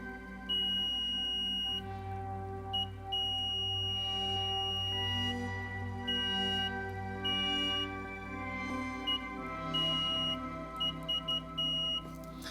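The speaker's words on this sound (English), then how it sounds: "So when you hear that beep, that's good" Sharp electronic beeps from a multimeter continuity test on a DIY synth filter module build, a string of repeated high steady tones of varying length over a constant background hum.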